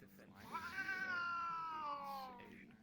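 Cats fighting indoors: one long, wavering yowl rises and holds for about two seconds, close and loud, with a low drone underneath and brief breathy noises at the start.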